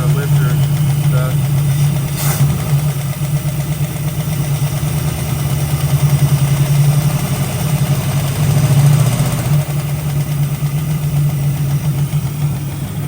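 A 1965 Ford Mustang engine idling after a carburetor rebuild, with a light lifter tap ticking over a steady low rumble, close and loud, with someone talking over it.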